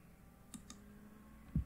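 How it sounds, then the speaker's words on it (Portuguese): Two quick mouse clicks in a row, faint and close, on a quiet background while working in a Windows 11 virtual machine setup. "Então posso agora dar dois cliques."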